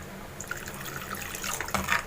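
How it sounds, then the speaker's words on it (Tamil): Water is poured into a pan of simmering garlic curry (poondu kuzhambu) after tamarind water, making a short liquid splashing pour that grows busier and louder toward the end. "கூடவே கொஞ்சமாக தண்ணி சேர்த்துக்கிறேன்."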